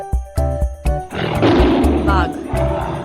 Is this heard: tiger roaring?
yes